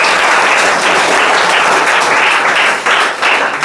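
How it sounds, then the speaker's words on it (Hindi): Loud, close applause from a group at a school prize distribution, rapid dense clapping that stays strong for several seconds before briefly dipping and resuming. "ताली बजाइए जोर से"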